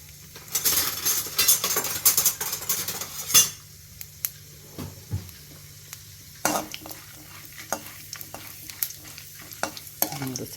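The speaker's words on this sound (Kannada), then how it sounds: "ಸ್ವಲ್ಪ ಫ್ರೈ ಆಗ್ತಿದ್ದಂಗೆ ಕಡಲೆಬೇಳೆ ಸ್ವಲ್ಪ ಕೆಂಪಗಾಗಲಿ" Cumin, mustard seeds and chana dal crackling in a spoonful of hot oil in a pan for a tempering, with steady sizzling and pops, plus metal spoon stirring and clinking against the pan in bursts.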